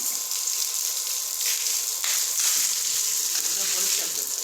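Water running steadily into a container indoors, a continuous bright rushing gush that holds level throughout, close and fairly loud, with faint voices underneath.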